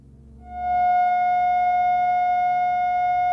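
A pure sine tone at F sharp, representing a hexagon of 720, swells in and then holds steady and loud, unwavering with nothing else over it.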